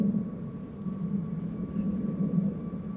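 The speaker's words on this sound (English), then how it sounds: "this is an A321neo." An Airbus A321neo departing from Amsterdam Schiphol's Polderbaan runway 36L gives a faint, steady, distant jet-engine drone with a thin whining tone, holding level for the whole stretch with no voices.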